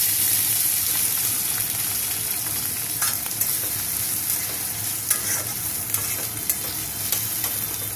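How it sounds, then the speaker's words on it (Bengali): Onions frying in hot oil with whole garam masala give a steady, close sizzle, with scattered crackles and occasional scrapes of stirring throughout. "পেঁয়াজটা আগে ভালো করে ভেজে নিই।"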